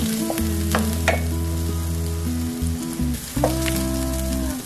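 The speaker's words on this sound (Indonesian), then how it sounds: "Dan serai, jahe, daun salam dan lengkuas kita masukkan. Aduk-aduk terus." Lemongrass, ginger, bay leaves and galangal stirred into a hot pot of yellow chicken broth: a steady loud sizzle and bubbling with sharp scrapes and clacks of the spoon against the pan, continuous and close.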